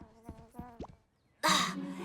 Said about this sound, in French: Ceci est une mouche de Littletown.